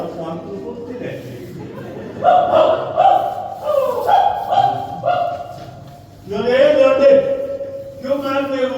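A dog barks and yips repeatedly in short bursts, close and loud, while people talk over it.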